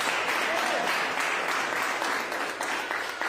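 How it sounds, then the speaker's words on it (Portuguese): A church congregation applauding in praise during a family worship service, a dense steady wash of clapping that holds throughout with only slight easing near the end. "pode louvar o Senhor com as palmas"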